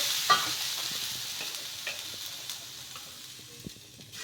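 Leftover-rice dosa batter fries on a hot pan with a soft, steady sizzle and light scraping as it is spread, fading slightly toward the end; nobody speaks.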